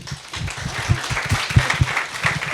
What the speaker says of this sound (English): So let's have a round of applause for Lindsey.